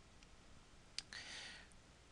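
A single computer mouse click lands sharply, followed by a brief softer clicking burst, quiet and close over a faint background hiss while working in Photoshop Elements.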